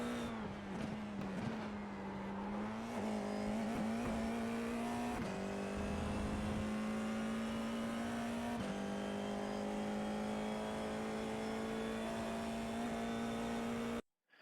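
An FIA F4 race car at Circuit Gilles Villeneuve in Montreal, its engine droning loud and close in a steady high whine that steps up through short gear-change dips, ending in an abrupt cutoff.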